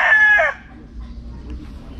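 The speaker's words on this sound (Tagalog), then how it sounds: "Pangalawa na manok ni Boss Don" A backyard farm rooster with a straight comb crows once, loud and close, for about half a second, followed by quiet outdoor background.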